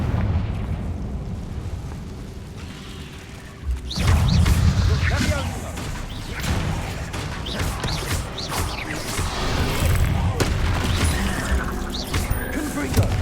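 Blasts of the Confringo explosive spell in the Hogwarts Legacy video game. A quieter stretch gives way to a sudden loud burst, then repeated booming impacts and crackling debris continue under voices.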